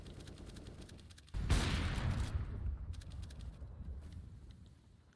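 Distant rapid gunfire and a sudden loud burst of explosion-like noise from a Counter-Strike match, with grenade blasts and crackling shots filling the space, followed by scattered pops and a lingering rumble.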